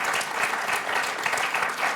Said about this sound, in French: On peut les applaudir tous les deux pour ce très beau match.